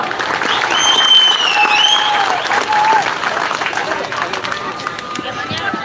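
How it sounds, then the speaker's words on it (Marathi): A large crowd at a public felicitation event bursts into steady applause and cheering, loud and sustained throughout, with a few whistles rising over the clapping. "त्यांच्यासाठी जोरदार टाळ्या वाजवा"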